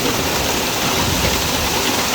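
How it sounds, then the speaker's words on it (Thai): Summer storm in Sisaket with heavy rain and hail, a dense steady roar of downpour, loud and close, continuous with no voices. "ถือว่าเป็นพายุเลยครับ ช่วงฤดูร้อนนะมันจะมาพร้อมลูกเห็บครับ"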